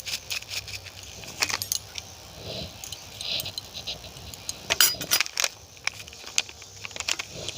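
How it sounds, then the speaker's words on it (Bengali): Crispy homemade french fries tossed and mixed with crushed dried chili flakes and chaat masala make sharp, irregular rattling and crunching clatters in close bursts, with quieter scraping between them. "এবার আমি ভালো করে মাখিয়ে নেব। কত সুন্দর আওয়াজ হচ্ছে দেখেছেন বন্ধুরা।"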